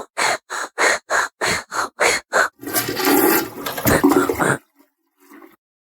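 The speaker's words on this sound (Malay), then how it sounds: "Siapa pula yang flush toilet ni?" A toilet flushing after a series of eight short, evenly spaced knocks or clunks, then a loud rushing gush of water lasting about two seconds that cuts off abruptly, leaving a faint trickle.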